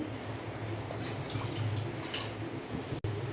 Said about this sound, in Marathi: आता ही पहिली वाटी पाणी आपण टाकायची आहे